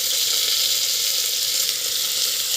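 Cabbage with turmeric sautéing in a pan gives a steady, close hiss of frying that holds even and unbroken for the whole stretch, with no talk over it.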